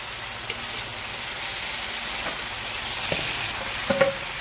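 Boiled chowmein noodles dry-fry in a pan with an even, close sizzle, broken by a few light clicks and scrapes of stirring toward the end.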